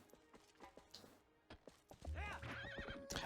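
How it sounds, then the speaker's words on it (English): Horse in the video game The Legend of Zelda: Twilight Princess, with scattered clip-clop hoof taps followed by a loud, wavering neigh and whinny, close and clear, with a person speaking briefly early on. "Horsey."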